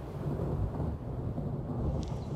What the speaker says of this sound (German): Du hast halt den Donner gerufen